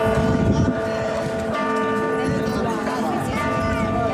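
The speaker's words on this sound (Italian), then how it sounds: "Le campane della cattedrale di Palermo, terminati i funerali del Santo Padre, suonano a morto nel silenzio più assoluto." Bells of Palermo cathedral toll for the dead after a papal funeral, sustained ringing tones and overlapping hum under a broad, noisy wash of outdoor sound.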